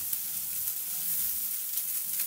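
Onions sizzle steadily in a hot pan, a close, even crackling hiss with faint stirring scrapes and no voices.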